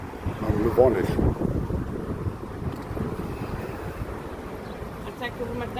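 Warm wind gusting across an open-air market in Marseille, a constant rumbling buffeting against the microphone, strongest at the start, with faint voices mixed in beneath it.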